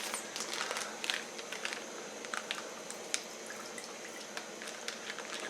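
Water draining through a strainer from rehydrated freeze-dried mac and cheese, a continuous wet trickling with scattered drips and squishy crackles, fairly quiet and close.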